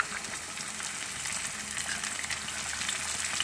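Onions frying in oil for a pea and cowpea curry crackle and sizzle continuously up close, a dense, fairly loud hiss with small popping bursts throughout.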